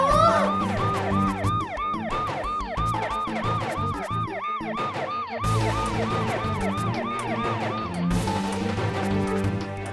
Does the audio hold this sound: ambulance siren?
yes